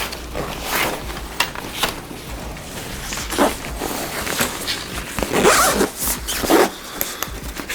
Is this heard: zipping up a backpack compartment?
yes